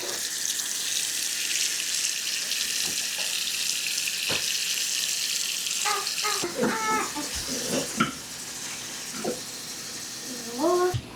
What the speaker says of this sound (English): let's give them a wash.